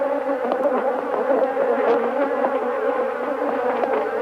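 A swarm of Africanized bees attacks a bag holding a microphone, a loud, dense, continuous buzzing right up close with faint ticks of stings against the bag.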